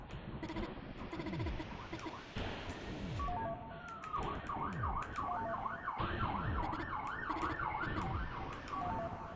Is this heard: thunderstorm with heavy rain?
no